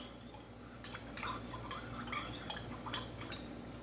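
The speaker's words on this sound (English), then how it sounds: "Okay, I'm going to stir this." A spoon stirs a tiramisu mixture in a bowl, giving a string of light metallic clinks and scrapes against the bowl. The taps are close and fairly quiet, with no talk over them.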